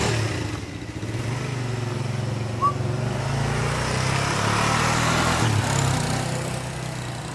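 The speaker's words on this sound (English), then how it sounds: "Watch my motorbike stall." Motorbike engine idling and sputtering as the rider tries to pull away at night on a campus, a steady close rumble with a rising rev that falters and dies down.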